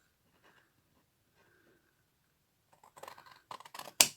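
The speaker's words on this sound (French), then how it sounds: "Moi là-dessus, je préfère quand même prendre mes ciseaux" Scissors cut paper for a gusseted pouch: after near silence, a run of soft, quick snips and rustles ends in one sharper final cut, close and fairly faint.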